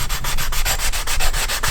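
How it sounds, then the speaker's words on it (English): A sanding block scrubs steadily across the black-painted cooling fins of an old Honda Fat Cat dirt bike engine, a loud, close, rhythmic rasp of quick back-and-forth strokes with no talking. "Let's throw a little sanding block to it and get our chrome"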